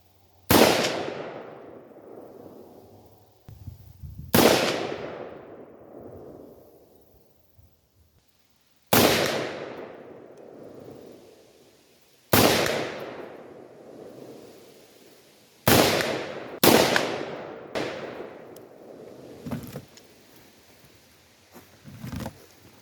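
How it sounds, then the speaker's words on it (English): Bear Creek Arsenal 9043N rifle firing 55 grain hunting ammo at a target, seven loud sharp shots at irregular intervals, each with a long decaying echo across open ground, no talking. "we're going to put some rounds on the head of this target just so you folks can see how accurate this rifle is"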